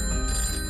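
A telephone rings in a promo for a farmers' helpline, a steady electronic ring sounding continuously and fairly loud for a brief moment with no talk over it.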